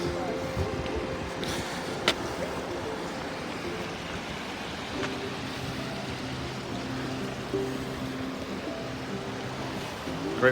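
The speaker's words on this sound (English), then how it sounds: "It's a nice set of rapids there directly in front of us." Rapids on Acorn Creek rush steadily in front of the listener, a continuous broad wash of flowing water with no breaks.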